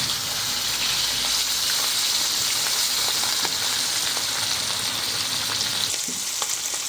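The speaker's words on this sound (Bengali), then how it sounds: "এই পিসটা ভেজে নেব।" Close, steady sizzling of a piece of bata fish frying in oil in a pan, a continuous bright hiss with occasional small pops and crackles.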